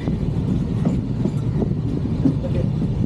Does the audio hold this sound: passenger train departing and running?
yes